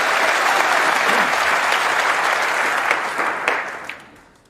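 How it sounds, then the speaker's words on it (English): Snooker crowd at the 2024 Masters first round bursts into loud, sustained applause and cheering after a frame win, the clapping thinning and fading out toward the end. "I'm sure he's going to get a big cheer as well to go with it"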